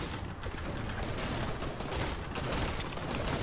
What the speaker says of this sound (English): Shotgun, let's go!